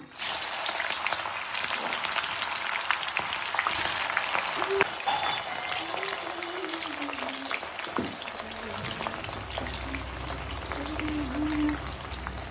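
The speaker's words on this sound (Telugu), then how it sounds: "ఈ పనసకాయ ముక్కల్ని ఆయిల్లో ఫ్రై చేస్తుంటే మాత్రం స్మెల్ భలేకి వస్తుంది" Jackfruit pieces frying in oil, a continuous crackling sizzle that holds steady throughout, with faint voices in the background.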